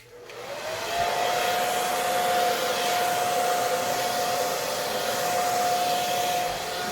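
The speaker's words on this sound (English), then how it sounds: "if you hear the blow dryer get louder, that's me just pressing the boost to help the paint" A blow dryer on its low first heat setting pushes air over poured acrylic paint, starting with a soft rise and then a loud, steady whoosh with a constant whine that holds close for several seconds, with no one talking.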